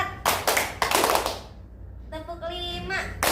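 A class of students plays a group clapping game, striking their hands together in loud, sharp unison bursts, then a stretch of chanting young voices before one more clap lands at the end.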